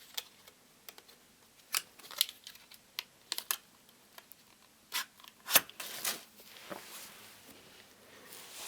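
Plastic packaging around a makeup eyeshadow palette being handled and opened, with close, crisp crinkles, taps and clicks in irregular bursts, fairly quiet with no talking.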